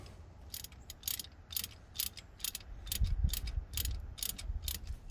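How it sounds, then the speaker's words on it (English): Ratchet wrench tightening a spark plug on a 2007 Chevy Silverado 1500 with the 5.3L engine, giving a rapid run of sharp ratcheting clicks in repeated bursts over a low rumble, close and alone with no voices. "go ahead and put the ratchet back on, tighten it down"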